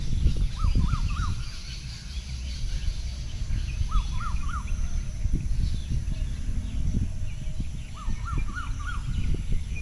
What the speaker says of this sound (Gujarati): એક ધારા કન્ટિન્યુની પક્ષી બોલી રહ્યા છે.